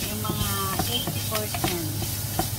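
Shrimp, crab and mayo spring rolls frying in oil in a pan, a steady close sizzle with scattered pops and crackles, faint kitchen tones in the background.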